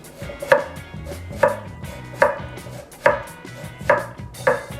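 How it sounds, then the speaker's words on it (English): A knife slices vegetables very thin for a veggie thin-crust pizza, six evenly spaced crisp chopping strokes on a board, close and clear with no talk. "we're going to slice our vegetables super thin, like almost hair thin"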